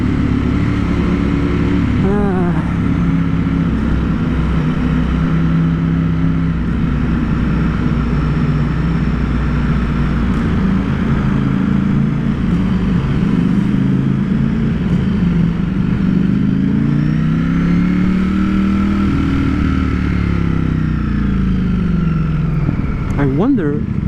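Engine of a 2020 Ducati Streetfighter V4 S on its stock exhaust, a steady loud drone with rising and falling revs, heard close while a rider talks over it.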